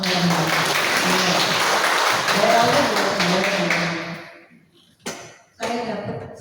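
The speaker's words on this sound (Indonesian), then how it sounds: "Tepuk tangan buat Allah." A seminar audience at a Christian teaching event bursts into loud, dense applause that gradually fades out over about four seconds, followed by two short, sharp bursts of clapping and thumps.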